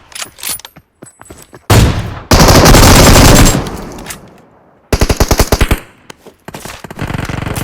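Video-game gunfire in PUBG Mobile, with loud automatic bursts and rapid single shots, several sustained volleys separated by short pauses and a tight rattling string near the end.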